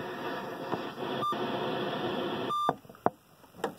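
An Accutrak ultrasonic detector beeps in short electronic tones, a brief pair early on and a longer beep a little later, over a steady background hiss followed by a few sharp clicks.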